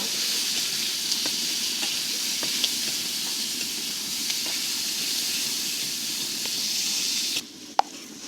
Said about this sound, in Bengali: পেঁয়াজ কুচি দিব পেঁয়াজটা একটু লাল লাল করে ভাজে নিব